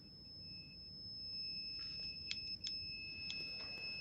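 A computer power supply gives a continuous high electronic tone, with a few short, sharp beeps near the end over a low hum.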